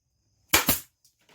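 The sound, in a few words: staple gun stapling an ATV seat cover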